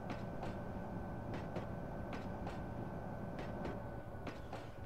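A tram running in the TrainZ railway game, a steady rolling rumble with evenly spaced metallic clicks from the rails, continuous and fairly loud with no talk.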